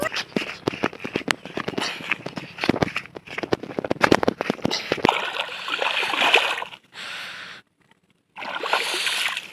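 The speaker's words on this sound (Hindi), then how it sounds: "अभी मैं नदी पर पैर धो के आता हूँ" River water splashes in quick, irregular bursts as feet are washed by hand at the riverbank, loud and close, then gives way to steadier flowing water with brief gaps.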